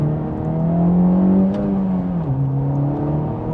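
A 2024 Acura Integra Type S accelerating in Sport Plus mode, its engine and exhaust droning steadily with a gear change midway, heard from inside the car with no voices.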